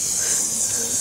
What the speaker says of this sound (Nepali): यहाँ चाहिँ तातो पानी पुरै उम्लिरहेको छ